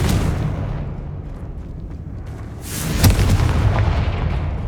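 A Confringo spell blast in the Hogwarts Legacy video game lands as a sharp boom followed by rumbling, crackling debris, loud and close after a quieter low ambience.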